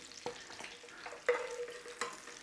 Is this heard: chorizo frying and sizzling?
yes